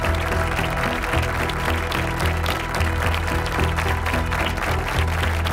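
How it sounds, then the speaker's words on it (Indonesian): Applause for the Apollo 11 astronauts as they head to the launch pad, a thick, continuous wash of clapping from a large crowd that holds steady under a low musical hum. "Tepuk tangan membahana."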